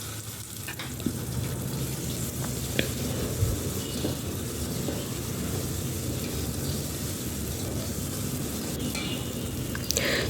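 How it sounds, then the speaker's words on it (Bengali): A paste of ground ginger, cumin and garlic fries for dal in a pan, a steady close sizzle with scraping stirs and a few clinks running throughout. "তো মশলাটাকে ভালো করে ভেজে নিয়েছি।"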